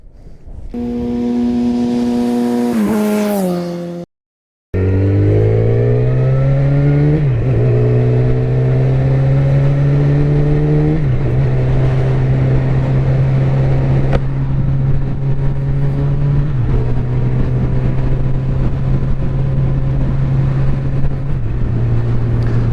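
Yamaha FZ1-N motorcycle engine rising in pitch as it revs, a brief gap, then a loud steady drone that climbs through gears and settles into cruising speed on a ride.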